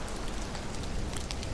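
Steady rain in the horror video game The Mound: Omen of Cthulhu, a dense continuous hiss of drops falling on the ground, even and unbroken throughout with no voices.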